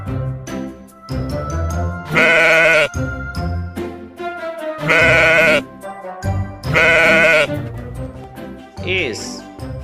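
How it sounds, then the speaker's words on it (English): A sheep bleats loudly three times in long, drawn-out calls, with gentle bell jingles and softer sounds between them. "S is for sheep."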